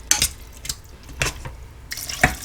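Water poured over dry pasta in a pressure cooker for corned beef hash mac and cheese comes in a few short, splashy bursts with brief pauses between them, close and fairly clear.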